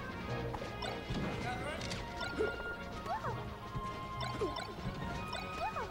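Hits land in Super Smash Bros. Melee during a Falco versus Peach match, with sharp smacking impacts and bright game effects. Commentators talk excitedly over the top throughout.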